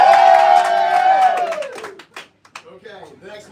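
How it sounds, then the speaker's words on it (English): A game-show audience cheers and claps at a live Star Trek versus Star Wars debate, a loud burst of crowd noise and whoops that fades over two seconds, followed by a voice speaking quietly. "Give me the cheer for 7 and 9."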